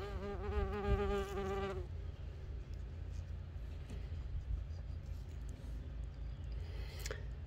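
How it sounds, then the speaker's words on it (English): An orchard mason bee just out of its cocoon gives a close, wavering buzz for about two seconds, then stops, leaving a low background rumble and a faint click near the end. "Orchard mason bee"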